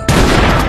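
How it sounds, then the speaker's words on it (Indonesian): A sudden loud gunshot bursts in after a brief quiet, its echo ringing on through the short moment. "Suara tembakan itu terdengar"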